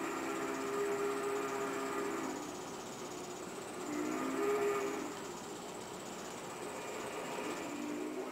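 Model train running along the rails of a home layout, a steady close rumble and clatter that swells and fades twice, with a faint whistle-like tone riding on top.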